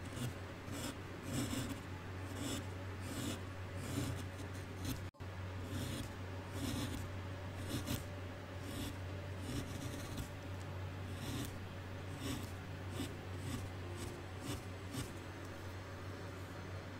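Wood gouge carving an owl, cutting across earlier gouge marks to flatten the surface: faint, close, repeated scraping and rasping strokes in an irregular rhythm over a low steady hum.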